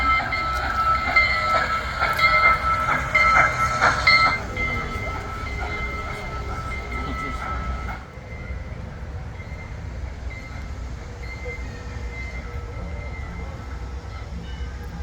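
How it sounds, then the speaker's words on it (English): Haunted train ride at a dinosaur theme park, with a steady rolling rumble and rhythmic clicking that is loud through the first half, then an abrupt drop around eight seconds to a softer, continuous ride noise. "It looks like we have a haunted train ride also."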